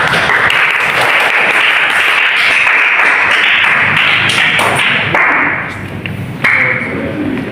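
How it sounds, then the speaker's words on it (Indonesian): Classroom audience applauding after a group presentation, loud continuous clapping from many hands that tapers off near the end. "Ya, tepuk tangan untuk Bapak."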